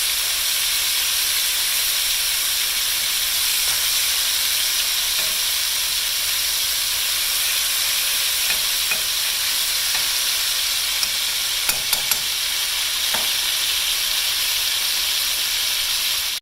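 Steak browning in a frying pan for Swiss steak, a loud, steady hiss and crackle of sizzling fat that runs throughout, with a few faint clicks and scrapes of handling near the end and no talking.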